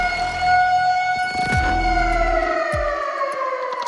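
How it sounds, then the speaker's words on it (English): Several wailing emergency sirens rise and fall together, loud and steady, with a deep rumble passing through midway. "And then come the sirens"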